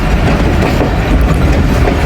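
An Awam Express train approaches Taxila Cantt Junction station, its loud, steady rumble and rhythmic clickety-clack of wheels on rail joints filling the scene continuously and close by.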